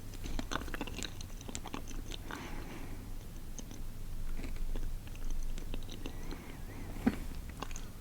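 Quiet close-up chewing of sushi with a crunchy topping, soft wet bites and small crunchy clicks spread steadily through the stretch, with no talking.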